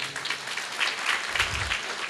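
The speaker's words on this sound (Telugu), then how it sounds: "గట్టిగా చప్పట్లు కొడుతూ దేవుని మహిమపడతాం." A church congregation gives loud, sustained applause to glorify God, a steady dense patter of clapping lasting throughout, with no voices over it.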